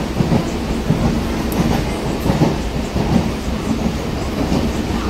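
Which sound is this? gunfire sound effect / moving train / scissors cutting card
moving train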